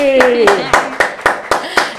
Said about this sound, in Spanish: Recibamos todo con un fuerte aplauso